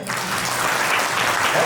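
Brief burst of audience applause at a live Hindi stage arts event, steady dense clapping from a crowd with no pause.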